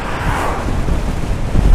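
Steady, loud blustery wind buffeting the microphone while riding a Super Soco TSX electric motorcycle around Lowestoft, a dense rushing roar with no speech.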